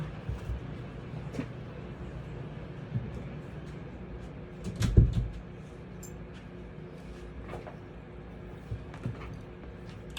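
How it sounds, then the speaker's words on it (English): A single door shuts indoors midway through, a short dull thud against a quiet background scattered with faint knocks and small handling sounds, with no talk. "Let me close the door."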